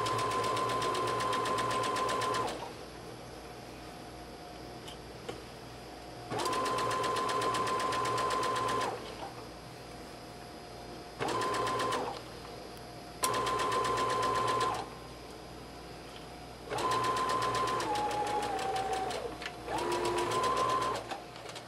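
A sewing machine stitches a jumper in bursts of rapid, whirring needle chatter, each lasting a few seconds and separated by quiet pauses, close and clear with no talking.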